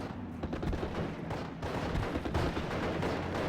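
Gunfire in the World War II strategy game Steel Division 44, including autocannon fire, forming a dense, continuous battle din of overlapping shots and blasts at steady loudness without pauses.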